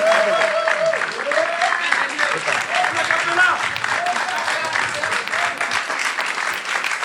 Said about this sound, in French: On va le raccompagner avec beaucoup d'applaudissements.